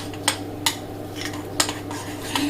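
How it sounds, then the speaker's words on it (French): A utensil stirs powder into cream in a bowl, giving a few sharp clinks and scrapes spaced out over a quiet background hum. "Et je mélange"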